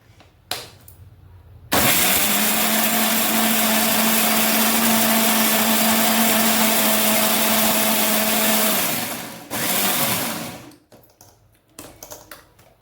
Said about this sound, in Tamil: இனிமேல் நம்ம அரைச்சிடுவோம் இப்போ அரைச்சிடுவோம்